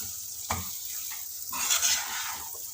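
Cooked aloe vera sabzi with coriander leaves is stirred in a pan, a spoon scraping and clinking in short strokes over a faint sizzle, close and moderately loud.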